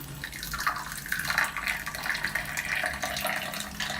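Water runs steadily from a tap while a child fills and washes kitchen items during play, a continuous close splashing flow at an even level with no talking.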